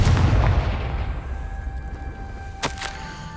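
Confringo fire spell cast in the Hogwarts Legacy video game: a booming burst at the start fading into a rumbling tail, then two sharp cracking impacts near the end, with a faint tonal hum between.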